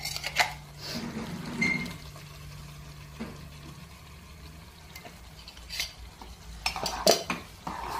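Utensil scraping and stirring in a pan as tomato paste is worked into cooked masala for a Vidarbha-style patvadi rassa, with intermittent clinks of a spoon against metal and a soft liquid squelch, fairly quiet throughout.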